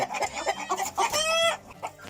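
A rooster of an ornamental poultry breed, crested and with feathered feet, gives a run of close, clear clucks, followed by a longer drawn-out call.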